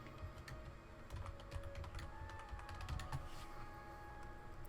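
Steady typing on a computer keyboard, with a quick irregular stream of light key clicks, close and moderately quiet, and no speech.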